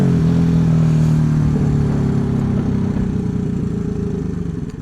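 Yamaha WR250X motorcycle being ridden, its engine a loud, close, rough rumble with a slight pitch shift early on, easing off gradually toward the end with wind noise, no talk.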